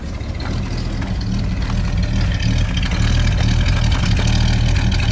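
A 1954 Packard 359 cubic-inch straight-eight engine idles steadily up close, a low, even rumble with a slight lope that holds for several seconds with no talking.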